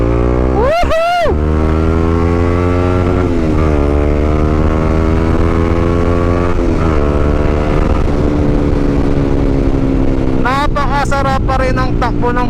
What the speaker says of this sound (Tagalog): Napakasarap pa rin ang takbo ng motor na to guys.